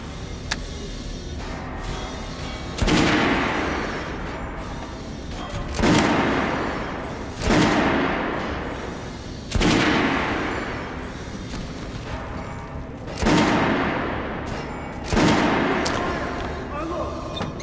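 Gunfire on a shooting range in Metro Last Light Redux: about six heavy, booming shots spaced a couple of seconds apart, each with a long ringing decay, mixed with steady game ambience.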